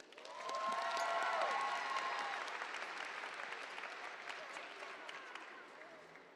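Audience applause fills a graduation ceremony for the Cass Tech class of 2021, steady dense clapping that swells early and holds, with some crowd cheering and faint voices mixed in.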